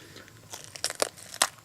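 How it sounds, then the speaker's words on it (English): A bite into a crunchy, thin-walled Dulce Marron pepper pod (Capsicum chinense, brown all the way through) gives a few quick, sharp crunching snaps close up, with no talk. "Okay, so the texture is very crunchy, very thin wall."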